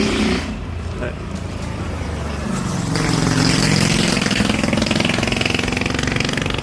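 Loud vehicle exhaust rumbles close by, swelling into a rapid rattling throb while a person talks over it.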